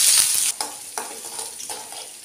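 Finely chopped small shallots sizzle in hot oil with mustard seeds and a pinch of fenugreek, the tempering for a jackfruit-seed tomato curry. A steady frying hiss carries a few sharp stirring scrapes, close and moderately loud, with no talk.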